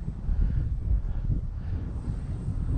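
Strong wind buffeting a microphone outdoors during a Tower Hobbies ASW 28 RC glider flight, a loud, continuous low rumble with no voices.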